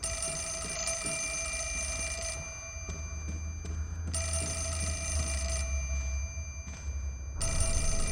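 A telephone in the Fatal Frame: Mask of the Lunar Eclipse video game rings in repeated electronic bursts with short pauses between, loud and clear over a low ambient game drone.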